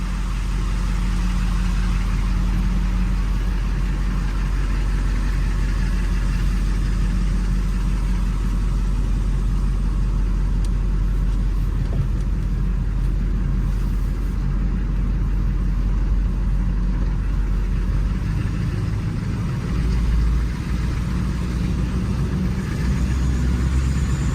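A Chevy Silverado Duramax diesel pickup rumbles steadily at close range as it rolls slowly out of a garage, a constant low engine drone with no voices.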